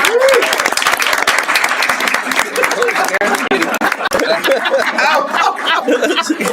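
Audience applause breaks out at a city council meeting after a board appointment is announced, a dense burst of clapping with scattered chuckles and voices mixed in, steady and fairly loud for several seconds.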